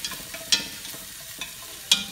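Onions and carrots crackle quietly in a pan while a utensil stirs, giving a couple of sharp scraping clicks over a light sizzle, close by and brief.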